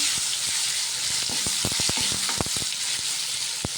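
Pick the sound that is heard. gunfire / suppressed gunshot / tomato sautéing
tomato sautéing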